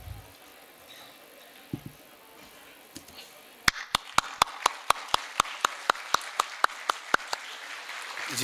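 An audience at a Punjabi literary festival bursts into applause after a stretch of quiet room noise, with a run of sharp, evenly spaced claps ringing out close and loud.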